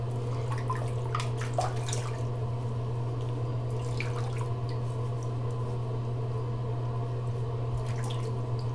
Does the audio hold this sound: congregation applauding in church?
no